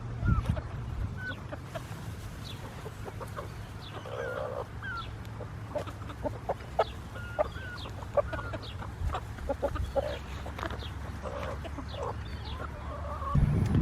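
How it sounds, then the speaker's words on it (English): Chickens cluck and chatter continuously in a busy flock, with scattered short calls near and far over a low outdoor hum. "Where are my chickens?"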